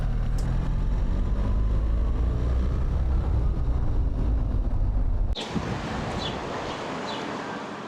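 A motorcycle rides the Verdon Gorge route in France with a strong, steady engine and wind roar that cuts off abruptly into quieter wind and road noise, with a few faint ticks afterward.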